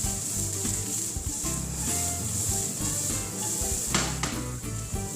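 Butter sizzling in a saucepan with rosemary for chicken Alfredo, a loud steady hiss of frying filling the whole stretch, with a few utensil scrapes and knocks near the end.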